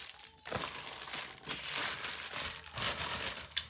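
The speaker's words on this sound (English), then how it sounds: "So let's do the unboxing, okay?" Cardboard package holding a notebook being opened, with close, quiet crinkling and rustling of packaging in several short bursts, no voice over it.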